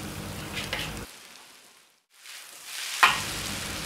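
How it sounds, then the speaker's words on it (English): Egg being scrambled and tossed with noodles in a frying pan for pad Thai: a close sizzle and stirring, dropping to near silence midway, then resuming with a sharp scrape and renewed frying. "scramble the egg and mix them with the noodles"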